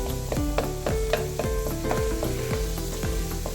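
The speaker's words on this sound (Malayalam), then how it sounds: "ഇനി നന്നായിട്ട് മിക്സ് ചെയ്യാം ഈ ചെറിയ ഉള്ളി നന്നായിട്ട് വഴറ്റിയെടുക്കാം" Small onions sauté in a pan for a Kerala-style mutton dish, with a steady sizzle and a spatula scraping and stirring at a regular rhythm, close and clear with no talking.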